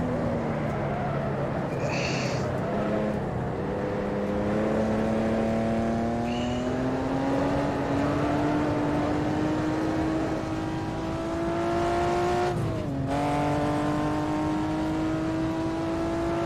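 A 1958 race car engine revs hard at the Goodwood Glover Trophy, a loud sustained drone rising steadily in pitch through the gears, with a brief dip and surge near the end, heard from on board.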